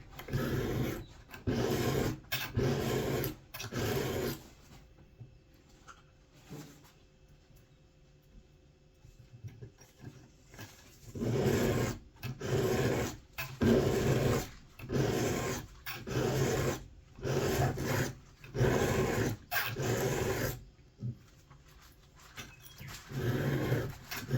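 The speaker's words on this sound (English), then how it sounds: "once that file gets a good bit of metal on it, just brush it off like I did just then, and then continue cutting your bevel" Metal file rasping across a Tusker Concord broadhead to cut a single bevel, heard as repeated close, loud strokes in steady rhythm, a pause partway through, then more strokes resuming.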